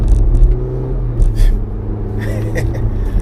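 Road traffic with a nearby car engine rumbling and droning steadily, with passing vehicle noise in the Coachella Valley.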